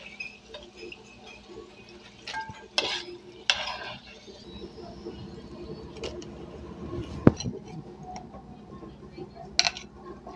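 Duck eggs are being whisked with potatoes in a bowl, giving soft stirring and scraping with sharp clinks of utensil against the dish, a few louder knocks, and a faint sizzle of a frying pan in the background.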